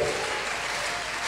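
A church congregation at a French-language worship service applauds in acclaim, a dense, steady wash of clapping that fills the short moment without any speech.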